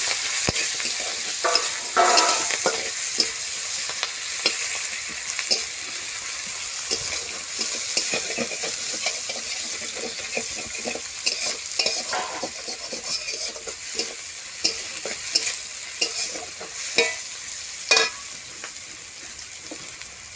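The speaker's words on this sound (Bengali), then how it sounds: "তেলটা ভালোভাবে গরম হয়ে যাওয়ার পরে এর ভিতরে দিতে হবে পাঁচফোড়ন।" Panch phoron spices crackle and sizzle in hot oil while a utensil stirs and scrapes the pan, producing irregular sharp clicks over a continuous close sizzle with no talking.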